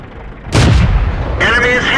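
A tank cannon in World of Tanks fires with a sharp, booming blast that rolls out into a loud rumbling tail, then a bright metallic ringing follows as the shot lands.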